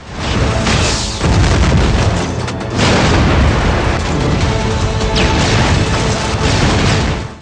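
Loud, sustained explosions and crashing destruction from the video game Red Faction Guerrilla, with dense rumbling booms filling the whole stretch and a few brief dips between blasts.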